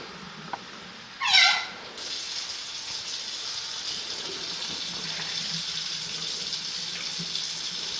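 Water runs steadily from a tap into a pot, a continuous hissing splash that lasts for several seconds after a brief squeak at the start.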